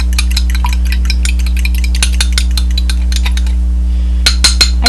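Mixture beaten by hand in a bowl while making pumpkin pasties, giving a steady run of quick light clinks and scrapes at close range over a constant low hum, with a few sharper taps near the end.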